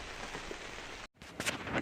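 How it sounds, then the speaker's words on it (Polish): Rain falls steadily over a garden with a plastic-covered tunnel, a dense, even hiss of drops on surfaces that breaks off for an instant and returns with a few sharper patters. "a deszczyk sobie pięknie, równo pada"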